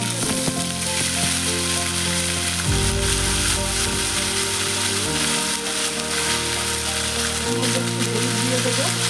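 Bengali tempering spices fry in hot oil in a pan with a steady, loud crackling sizzle throughout, while low tonal hums shift underneath, close to the listener with no talk.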